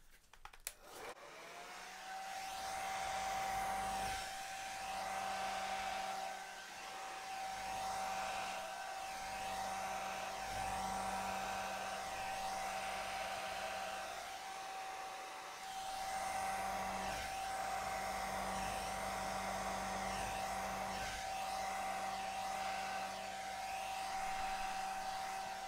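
A hair dryer blows steadily on an acrylic Dutch pour, a continuous whirring hum with a faint high whine that shifts slightly as the airflow is aimed around the canvas.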